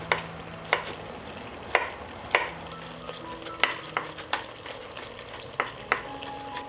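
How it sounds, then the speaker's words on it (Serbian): Schnitzels sizzle steadily in a frying pan while a utensil taps and scrapes the pan every second or so, sharp clicks over the continuous hiss. "Dok se šnicle prže sa druge strane"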